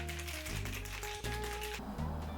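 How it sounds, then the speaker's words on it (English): A cocktail shaker packed with ice is shaken hard for a whiskey smash, a dense continuous rattle of ice against the tin filling the whole stretch with rhythmic pulses, loud and close. "Fill the shaker with ice. Nice and full. Seal it tight and shake well."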